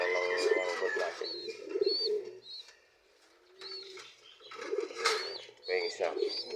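Young pigeons coo in soft, throaty bursts close by, with a brief lull midway and a few higher chirps mixed in.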